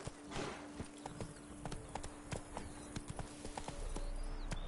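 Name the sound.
horse Roach galloping hooves in the video game Witcher 3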